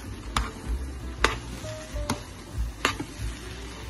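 Noodles and cabbage cook in a pan with a soft, steady sizzle, broken by several sharp clicks and taps from a utensil stirring the food.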